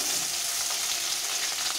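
Onions and green chillies fry steadily in hot oil with cumin, mustard seeds and fenugreek, a dense, even crackling sizzle close by with no voices.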